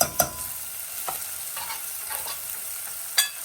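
Onions brown in a pan over medium heat with avocado oil, a soft, even sizzle with a few light clicks of a utensil, close and quiet, with no speech.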